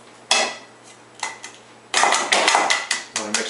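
A spoon mixing Dijon mustard into homemade mayonnaise in a bowl, with sharp clinks and scraping taps against the dish, first sparse, then a quick run of repeated knocks, close and without talk.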